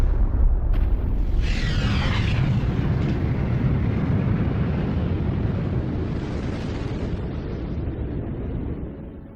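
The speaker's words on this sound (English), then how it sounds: "Massive stars end explosively." A supernova explosion rendered as a sound effect: a deep, sustained rumbling roar with a bright whooshing burst early on, loud and dense throughout before slowly fading toward the end.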